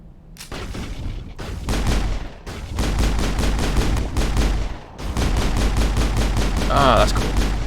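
Dense bursts of automatic gunfire in a Mass Effect firefight, loud and near, in rapid repeated volleys with brief gaps, continuing throughout.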